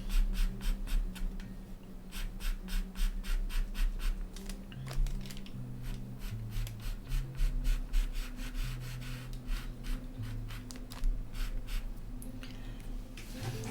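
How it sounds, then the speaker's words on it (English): A Carbothello pastel pencil strokes across paper in a steady series of close, scratchy rubs, some short and some drawn out, over a faint low background hum. "Maybe I should use a pastel pencil."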